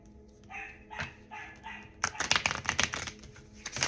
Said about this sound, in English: oh gosh, those dogs.